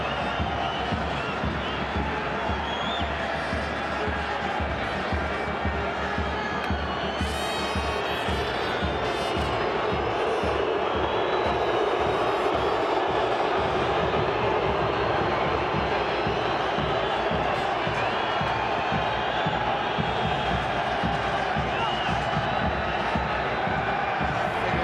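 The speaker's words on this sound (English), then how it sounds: "It is a highly partisan crowd at first glance in favor of El Salvador" A partisan stadium crowd at a Gold Cup football match between Honduras and El Salvador, cheering for El Salvador as a steady dense roar throughout, with a commentator's voice faintly over it.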